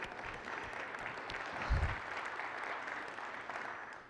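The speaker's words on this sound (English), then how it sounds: "Yay, I'll give a clap for that one." Audience applause at an in-person gathering, a steady dense wash of clapping from a room full of people, moderately loud and sustained for several seconds without speech.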